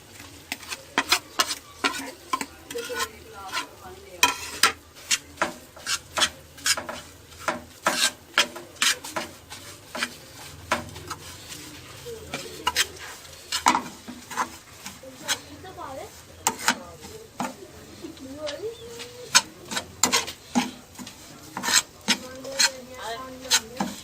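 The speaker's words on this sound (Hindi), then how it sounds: "ऐसा ऐसा करके इसके अंदर हम डालते जाएंगे और इसे हिलाते जाएंगे" Rusk halwa being stirred in a pan with ghee as ingredients are added, a repeated scraping and rubbing of a spoon against the pan in an uneven rhythm, close and clear, with a voice speaking at times.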